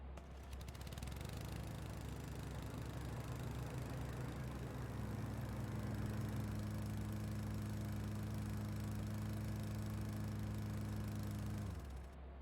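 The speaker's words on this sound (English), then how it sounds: "we're just pushing a fucking lawnmower" A lawnmower in a video game drones steadily at mid distance as it is pushed, a constant engine hum whose pitch rises slightly partway through, then cuts off abruptly near the end.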